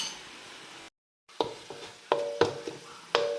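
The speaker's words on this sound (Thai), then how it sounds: "เคี่ยวไปเรื่อยๆเรื่อยๆนะคะ แล้วเราถ้าเกิดว่ากะทิมันแห้ง เราก็ค่อยๆ ผัดไป ผัดไปเรื่อยๆ" Coconut cream with shallots and garlic simmering and being stirred in a pan: soft bubbling sizzle broken by a brief silence, then a series of sharp spoon scrapes and taps against the pan.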